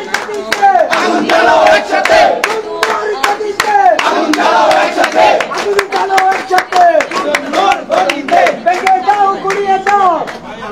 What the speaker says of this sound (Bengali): শিক্ষার্থীরা কিন্তু স্লোগান দিচ্ছেন